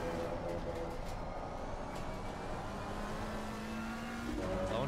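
Racing car engine in a sim racing game, a steady droning hum with rising and falling pitch under braking and acceleration, continuous and fairly loud throughout, with a voice faintly present in the background.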